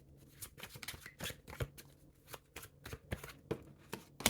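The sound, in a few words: tarot cards being shuffled, a card falling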